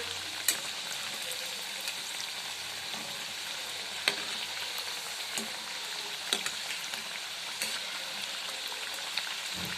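Sabudana vada patties deep-fry in hot oil with a steady, close, even sizzle. Occasional sharp pops and spatula clicks punctuate it, and no one speaks.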